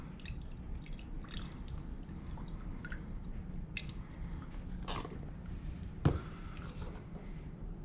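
Water rinsing a pH electrode in a lab between acetic acid samples, soft trickling and dripping close by with scattered squishy splashes and one sharper knock near the end, no speech.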